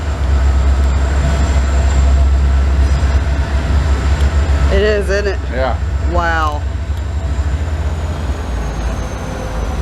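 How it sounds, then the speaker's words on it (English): Trains passing near the historic Sloss Furnace industrial site, a steady low rumble with a long horn blast sounding twice midway, fairly loud and close, while people exchange brief remarks. "I love hearing the trains here."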